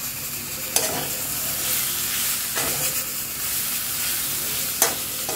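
Soya chunks squeezed of water fry in a pan over a high gas flame, giving a steady, loud broadband sizzle with a few sharp clicks of stirring and nobody talking.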